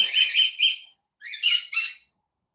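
Pet parrots squawk indoors in a bird-filled house, several loud, harsh bursts in two quick clusters separated by a brief pause, close to the mic.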